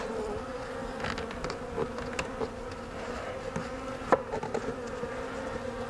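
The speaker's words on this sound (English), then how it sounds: "Obviously have bees in here." Honey bees buzzing around a hive, a steady close drone with individual insects zipping past the microphone and occasional louder passes, no voices.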